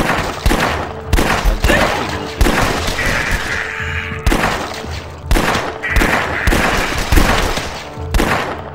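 Rapid automatic gunfire in The Last Stand 2: loud, close bursts of quick shots separated by short pauses, repeating in a stuttering rhythm over several seconds, with no talk.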